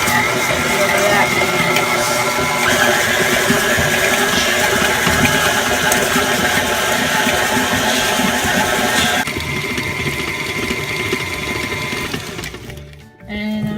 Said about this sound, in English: now we'll need to mix with the mixer on medium, stirring it often until it's creamy